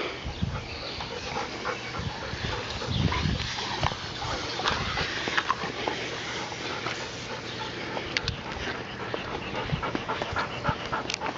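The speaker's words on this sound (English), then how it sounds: "The good dog." A dog pants steadily and close, with occasional soft whimpers over a constant outdoor background hiss on a summer day.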